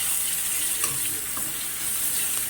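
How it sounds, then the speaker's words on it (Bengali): Sliced onions fry in oil for a katla fish curry, producing a close, continuous hissing sizzle with faint bubbling, alone and without talk. "পেঁয়াজগুলো দিয়ে দিলাম, পেঁয়াজগুলোও করে ভেজে নেবো এভাবে"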